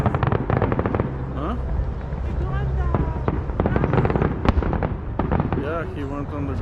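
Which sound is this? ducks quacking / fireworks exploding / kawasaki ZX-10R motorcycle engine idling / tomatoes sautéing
fireworks exploding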